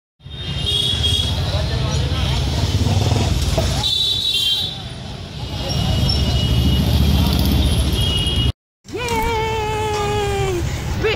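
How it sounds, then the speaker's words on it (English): Busy Indian street traffic roars around a rickshaw ride, a dense, loud wash of engines and road noise with horn toots, a brief dropout, and a person talking and exclaiming excitedly over it. "Rickshaw ride!"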